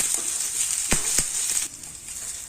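Onions frying in oil for an egg masala curry, a steady bright sizzle at close range with a few soft stirring knocks, easing slightly toward the end.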